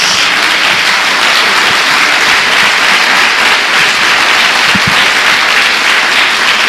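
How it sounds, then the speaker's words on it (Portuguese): A church congregation breaks into sustained, dense applause, loud and steady throughout with no talking over it. "Dê uma salva de palmas a Jesus."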